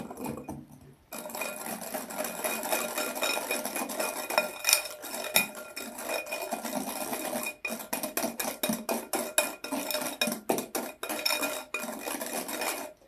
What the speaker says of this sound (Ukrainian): І додаю крохмаль сюди. також перемішую гарно.